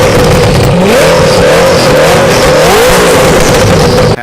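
A Koenigsegg Agera RS with an Akrapovic exhaust roars loud and close, its engine note rising and falling through repeated revs in a continuous, aggressive howl.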